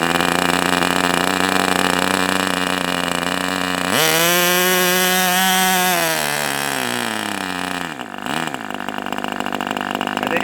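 An Enya 40 TV model glow engine runs steadily and loud with a constant high whine, its pitch rising sharply midway, holding, then dipping and wavering near the end as the throttle is changed.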